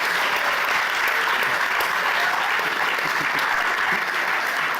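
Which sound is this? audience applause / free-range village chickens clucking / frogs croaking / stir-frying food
audience applause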